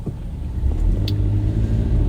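A car engine on a foggy, damp day rumbles and revs up, the low growl rising and holding steady for a couple of seconds with no talking.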